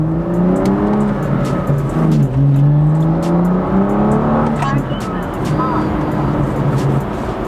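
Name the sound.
BMW F87 M2 with DINAN exhaust system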